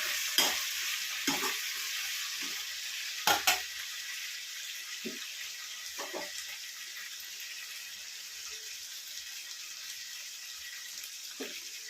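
Mushrooms sizzle in a pan at a low, steady hiss while a utensil scrapes and stirs them in several sharp bursts. The sound is close and has no voices.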